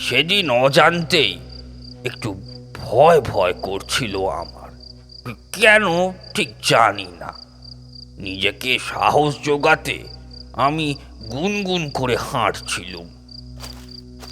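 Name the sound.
crickets chirping continuously in audio story sound effect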